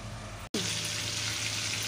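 Mutton kababs frying in refined oil in a kadhai, a steady close hiss and sizzle that cuts out briefly and then resumes, with no one talking.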